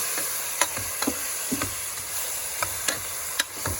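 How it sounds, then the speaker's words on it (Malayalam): Chicken pieces with spices fry in a pot while being stirred, making a steady soft sizzle punctuated by repeated light clinks and knocks of the spoon against the pot. "ഇതാ ഈ ഇറച്ചി ഇതിലേക്ക് ഇട്ട് കൊടുത്തിട്ടുണ്ട്"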